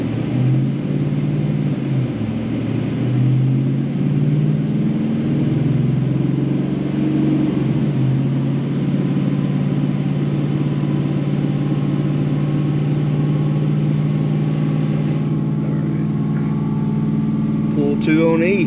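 An L83 V8 car engine runs on a dyno with a steady loud rumble throughout, rising into revving toward the end; no clear talk rides over the constant engine drone.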